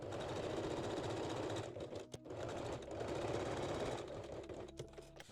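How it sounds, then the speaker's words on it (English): A sewing machine runs a long straight stitch along the side seams of a bikini top, with a continuous rapid mechanical chatter that pauses briefly twice. It is close and steady, with no voices. "Then I just stitch the side seams with long straight stitch so I can remove the pins."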